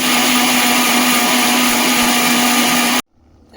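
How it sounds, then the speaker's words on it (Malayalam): Loud, steady whirring drone of a mixer grinder grinding coconut paste with water, close by for about three seconds, then cutting off abruptly into quiet. "മിക്സിയുടെ ജാറിൽ നല്ലതുപോലെ അരച്ചെടുക്കും"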